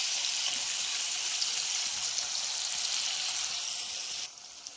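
Loud, steady sizzling of spice paste frying in hot oil in a kadhai, continuous and close, fading slightly near the end.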